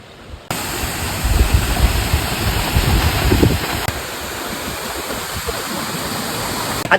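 Pinsal Falls in Santa Maria, Ilocos Sur pours down in a broad, constant roar of rushing water, heard close and loud after a brief quiet start, with rumbling gusts in the low end.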